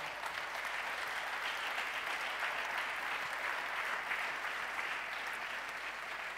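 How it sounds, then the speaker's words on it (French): Steady, even applause from an audience at the E-Commerce Awards 2014 prize ceremony fills the space without pause, a dense wash of clapping with no voices standing out. "On peut l'applaudir très très fort."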